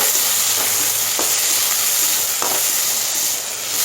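Coconut and tomato paste frying with onions in a pan, a steady close sizzle and hiss throughout, with a couple of faint stirring scrapes and no talking.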